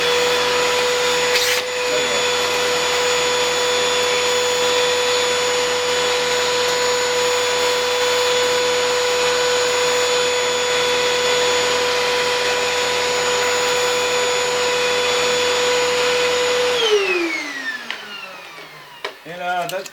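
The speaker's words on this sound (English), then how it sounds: "And I'm going to apply vacuum." A vacuum cleaner runs with a loud, steady whine over a CPU fan during cleaning, holding constant for about seventeen seconds before winding down in pitch as the motor shuts off.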